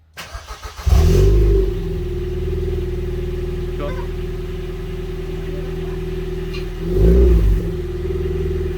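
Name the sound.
car engine revved with a short throttle blip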